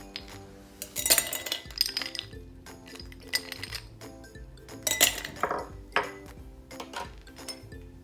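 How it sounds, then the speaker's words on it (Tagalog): Ice cubes clinking and rattling into a glass while a passion fruit pineapple green tea lemonade is being made, with several bright bursts of clatter separated by quieter gaps and no talking. "So, ilagay lang po natin ang ating ice cubes."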